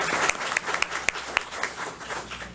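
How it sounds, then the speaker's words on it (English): Applause from the audience at a county school board meeting, a brief patter of clapping with a few sharp individual claps standing out, moderately loud and close. "So let's give her a big round of applause."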